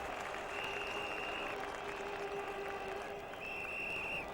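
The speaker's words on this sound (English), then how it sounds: "Tremendous cheer for Courtney" A cricket crowd at a West Indies versus Australia World Cup one-day match cheers and applauds for batsman Courtney Walsh in a sustained, distant roar with whistles over it.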